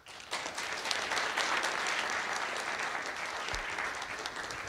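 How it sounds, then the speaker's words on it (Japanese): Audience applause following a lecture at an information symposium, sustained steady clapping from a large crowd throughout, fairly even in loudness with no speech over it. "もう一度大きな拍手をお願いいたします。"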